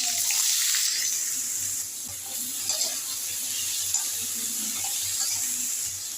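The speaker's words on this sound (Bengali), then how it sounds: "আলুগুলো এখন ভেজে নেব।" Cut potatoes fry in hot mustard oil in a wok with a continuous bright hissing sizzle, close and steady, with a few faint clinks beneath.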